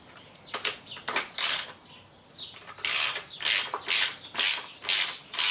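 A ratchet wrench tightens the top hat nut on a car's strut with a lowering spring fitted, clicking in repeated short bursts with brief pauses between strokes, close and clear.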